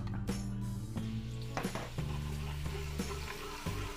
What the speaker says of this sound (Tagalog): Nagigisa tayo ng sibuyas bawang at atay balunan.